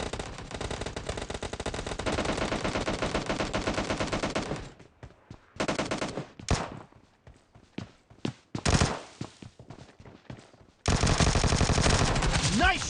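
Automatic gunfire in the battle-royale game PUBG, long sustained bursts of rapid shots at the start and end, with scattered single shots and short volleys in between, loud and close.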